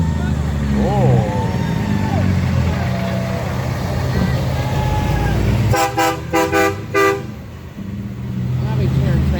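A loud train-style air horn on a truck at the 35th Annual Waupun Truck N Show blasts in several quick, rhythmic honks near the end. Steady crowd and engine rumble and people talking nearby run underneath.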